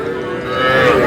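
A heifer calf at a cattle market gives a short, close moo lasting about a second, rising slightly in loudness.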